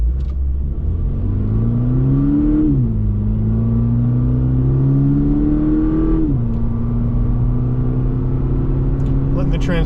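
A 2023 Toyota GR86 Premium pulls away with an automatic transmission, its engine note rising steadily in pitch, dropping at each gearshift and climbing again, loud and close from inside the cabin.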